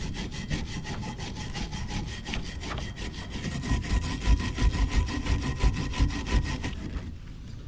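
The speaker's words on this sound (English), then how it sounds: "I'm just going to use a wire brush that we have right here, scuff them up, get them cleaned up" Rapid rhythmic scrubbing of a wire brush on brake caliper slide pins from a 2007-2013 Chevrolet Silverado 1500, GMC Sierra or Cadillac Escalade, close and loud, with heavier strokes toward the end and no talking.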